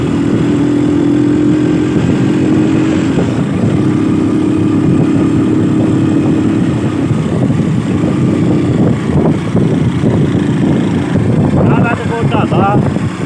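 A motorcycle rides along a mountain road in Azad Kashmir, its engine droning loudly and steadily throughout with heavy wind rush, and a voice is briefly heard near the end.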